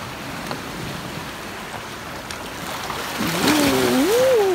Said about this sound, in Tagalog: Maririnig na ba yung alon?